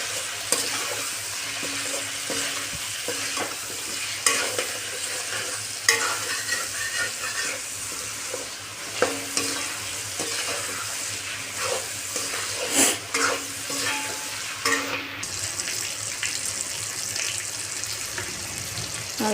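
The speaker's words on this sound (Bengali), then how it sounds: "এখন এটাকে ভালো করে ভেজে নেব।" Shredded cabbage fries and sizzles in a pan with spices and salt while a spatula stirs it, producing a steady hiss broken by repeated scraping and clattering strokes, close up and with no talking.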